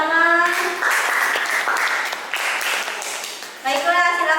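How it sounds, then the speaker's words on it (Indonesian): Classroom applause: pupils clap together in a steady burst, with children's voices ringing out over the clapping at the start and end. "Tepuk tangan."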